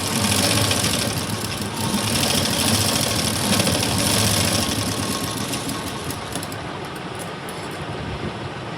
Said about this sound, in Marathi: तर इथूनच आपल्याला हा स्टिच करायचा आहे।